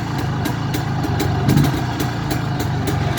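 An IZh Planeta 2 motorcycle engine idles steadily up close, a dense, even mechanical chug with a slight rise in the middle, the exhaust pulsing throughout with no voices.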